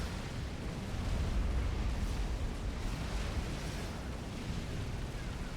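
Cerberus turrets fire in the strategy game Supreme Commander during a custom 4v4 battle, heard as a dense, steady roar of blasts and rumbling explosions that blend into one continuous wall of noise.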